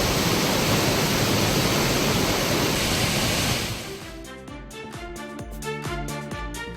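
A strongly flowing waterfall rushes in a loud, dense, steady roar for several seconds before giving way to music.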